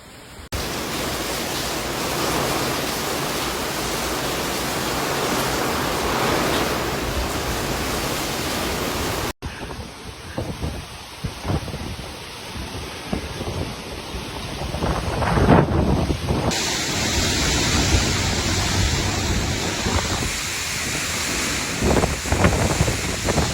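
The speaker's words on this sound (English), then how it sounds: "Typhoon Gaemi brought very strong winds and heavy rain." Strong winds and heavy rain from Typhoon Gaemi in Taiwan roar continuously, a dense rushing wash buffeting the microphone, changing character across separate shots with gusty swells and no voices.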